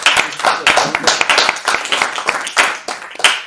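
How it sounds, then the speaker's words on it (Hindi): An audience at a Hindi comic poetry gathering claps loudly in uneven bursts, sharp individual claps mixed with brief spurts of crowd noise and voices. "जोरदार तालियां बजाकर"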